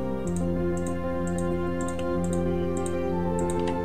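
Computer keyboard key presses made while the shift key is held: faint, evenly spaced clicks, about two a second, over a loud steady background hum.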